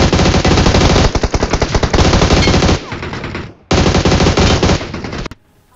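Loud automatic gunfire from the mobile shooter BGMI rattles in long rapid bursts, stopping briefly in the middle and then firing another burst before cutting off. No voices are heard.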